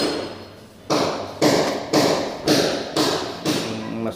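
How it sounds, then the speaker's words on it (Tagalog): A flat screwdriver pokes repeatedly at an electrical outlet, giving six evenly spaced, close, scraping taps about half a second apart, each with a short rattling tail. "Tutusukin nyo lang ng flat screwdriver."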